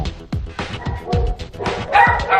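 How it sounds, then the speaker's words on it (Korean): An aggressive dog sounds off nearby in a run of sharp, loud barks and yips with whining between them, an agitated, repeated outburst rather than a low growl. "제작진을 공포에 떨게 했던 헐크버드의 으르렁"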